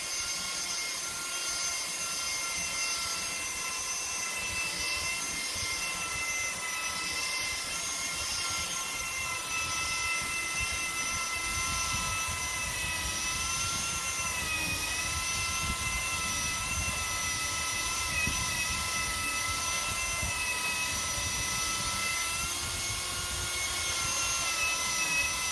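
Ryobi 18V brushless belt sander running continuously, a loud steady motor whine with a high tonal hum and a grinding belt rasp underneath, close up and unbroken with no talking.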